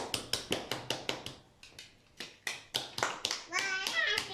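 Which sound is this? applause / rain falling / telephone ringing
applause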